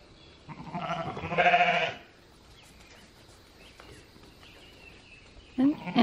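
Sheep on an Oklahoma ranch give a loud, close bleat lasting about a second near the start, followed by quieter farmyard background and a brief second call at the end.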